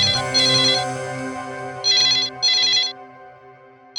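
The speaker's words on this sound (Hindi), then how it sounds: "शायद किडनैपर का फोन होगा।" A phone rings in repeated electronic bursts with short gaps between them, loud and close, over a faint sustained musical tone.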